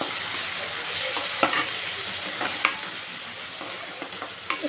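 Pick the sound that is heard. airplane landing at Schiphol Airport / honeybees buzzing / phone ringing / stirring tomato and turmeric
stirring tomato and turmeric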